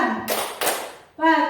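Hands clap sharply in a classroom clapping game, two quick bright bursts close by, set between short stretches of a teacher's voice.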